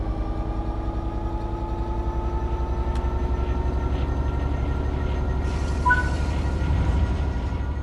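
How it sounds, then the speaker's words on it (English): Steady low engine rumble with a continuous hum and drone, a faint rise in tone late on, like a locomotive idling then starting to pull, as throttle is applied in the game Train Sim World 3. "Apply some throttle to get the train moving."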